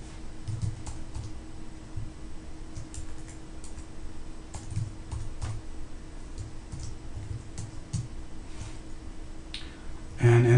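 Keystrokes on a computer keyboard as a command is entered, coming as sparse, irregular clicks over a steady low hum, with a louder knock at the very end.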